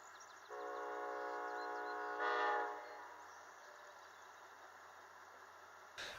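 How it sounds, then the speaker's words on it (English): Amtrak 513 passenger train pulling up to a stop at the American border: a steady horn-like tone sustains for about two seconds, swells briefly, then fades into a low continuous rumble of the idling train, heard from a distance. "After nearly an hour, Amtrak 513 arrives at the American border."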